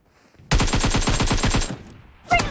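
Rapid automatic gunfire in the mobile shooter PUBG Mobile during a deathmatch, one loud sustained burst of about a dozen quick shots lasting just over a second, followed by a short pause and another sharp shot.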